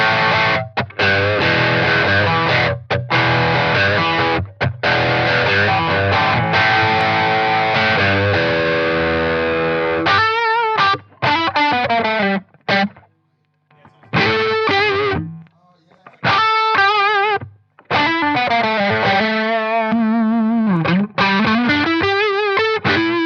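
Fender Vintera electric guitar played through heavy reverb and distortion, sustained chords ringing out loud, then choppy strummed bursts with short gaps and washy tails.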